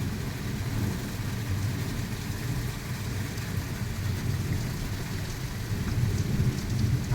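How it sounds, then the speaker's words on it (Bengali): Steady rain falls in a sudden early-morning storm under an overcast sky as the wind begins to ease, a dense, even patter with a low rumble running throughout and no voices. "হাওয়াটা একটু এখন কমে যাচ্ছে, বৃষ্টিটা হচ্ছে"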